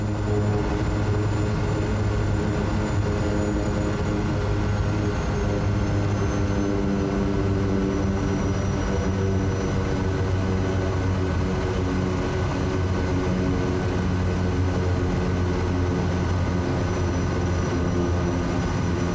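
An SWS Kodiak 100 single-propeller aircraft taxis in Microsoft Flight Simulator, heavily loaded, its steady loud turboprop drone and whine holding constant throughout with no voices.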